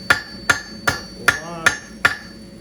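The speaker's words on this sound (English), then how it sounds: "so that when I hammer down, it pushes from both sides evenly" Six evenly spaced hammer blows ring on metal against an anvil, each a sharp loud strike with a bright ringing tail, falling about every 0.4 seconds with no talk.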